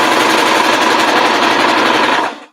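A sewing machine stitches a bonnet in one loud, close, continuous whirring run that stops abruptly near the end, with no talking.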